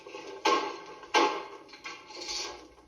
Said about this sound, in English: That's the sound of the hand loom that is weaving cloth at this very minute.